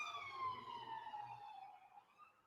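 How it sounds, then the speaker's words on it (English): An ambulance siren passes at midnight, its wail sliding steadily downward in pitch as it moves away. It is faint and distant, with no talk over it. "There goes the midnight ambulance."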